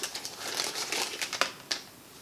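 Plastic bag crinkling as a Mercedes key fob is pulled out of it, a run of close, sharp rustles and crackles that ends with one brief crisp crunch.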